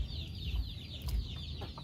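A darag rooster and three hens from Quiapo, Nueva Ecija, clucking close by in a short burst of soft, repeated clucks and low calls, with no talk.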